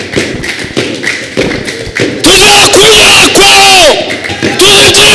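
A church congregation breaks into loud, sustained applause with cheering and high ululating voices, following quieter crowd sounds in the first two seconds.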